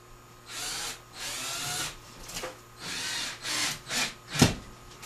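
A power drill drives screws into wooden door trim during a mancave door install, in several close, loud bursts of whirring that rise and stop, ending with a sharp knock.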